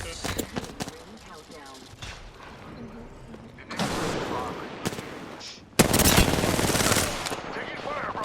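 Rapid video game gunfire crackles in bursts, loudest in a sustained barrage near the end, mixed with game effects and people talking over it.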